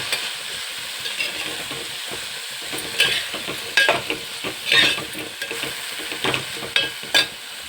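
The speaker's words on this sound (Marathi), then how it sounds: "आता टाकू भाजी ही बर्गेची भाजी आहे" Barki wild greens hit a hot pan and fry with a bright hiss, while repeated stirring strokes and utensil scrapes come in quick bursts over the sizzle.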